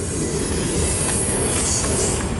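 CN X276 northbound freight train rolling past in New Haven, Michigan: a steady, loud rumble of rail cars with wheel squeal and clatter throughout, close by and continuous.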